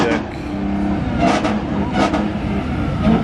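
A Lamborghini engine revs loudly nearby at a car meet, rising in a few throaty bursts against a constant low rumble and crowd noise.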